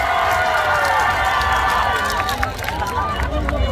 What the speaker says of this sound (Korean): 다같이 우리 부처님의 가르침을 생각하면서 다같이 박수와 함성!